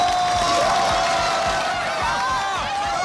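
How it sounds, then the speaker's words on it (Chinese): A crowd at a chef competition event applauding and cheering, a dense continuous roar of clapping and voices with whistles rising over it, loud and sustained. "掌声祝福他们"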